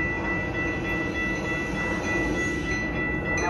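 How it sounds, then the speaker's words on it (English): A Metra Milwaukee West line commuter train pulls into the Franklin Park station, a steady loud rumble of rolling wheels and rail noise that fills the whole stretch with no pause. "Milwaukee West Main Line train number 2246 to Chicago Union Station is now arriving."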